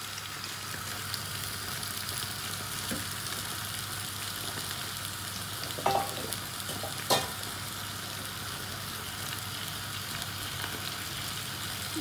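Sliced potatoes for a tortilla de patatas fry in oil in a pan, giving a steady, close sizzle throughout with a couple of brief knocks of a utensil against the pan.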